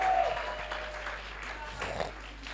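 Congregation at a Christian convention service applauding and acclaiming, a dense, steady wash of clapping filling the moment with faint voices mixed in.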